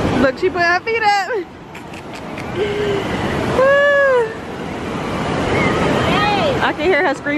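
Ocean surf washes steadily onto a beach on a family trip, a continuous broad rush rising and falling under a child's loud cries and adults talking nearby.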